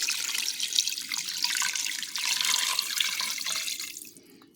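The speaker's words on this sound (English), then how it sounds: "And then I have to add 4 cups of water." Water pours steadily into a pressure cooker for about four seconds, a bright splashing stream that fades out at the end, with no one talking.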